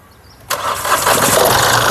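A 2017 Mahindra Bolero SLE engine fires on the first crank. There is a sudden loud start, and the engine then settles straight into a steady, close idle.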